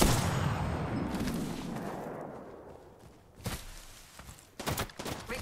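Apex Legends gunfire on the Olympus map, with a fading burst of shots at first, then a few sharp distant cracks later, fairly faint among quieter game ambience.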